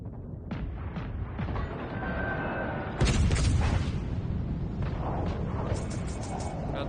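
A battleship's main guns fire a salvo in World of Warships Legends: one loud, sharp blast cuts through ongoing low battle rumble, followed by several smaller distant booms and pops.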